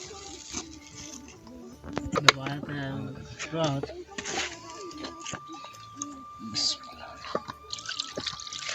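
Cool water splashes and drips over raw chicken being washed for a chicken karahi cooked outdoors in a forest, the pouring uneven and trickly, with people talking over it throughout.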